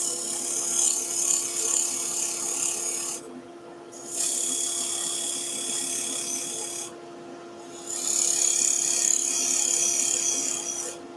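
A chisel cuts a wooden basket weave vase spinning on a lathe: a steady, close, raspy scraping in three long stretches, broken by two brief pauses, with no voices.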